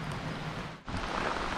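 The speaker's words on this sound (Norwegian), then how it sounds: "Det regner litt, så regner det enda mer." Heavy rain pouring down outdoors, a dense, loud, continuous hiss of falling water that briefly dips near the middle before surging back.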